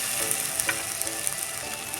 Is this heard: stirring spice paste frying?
yes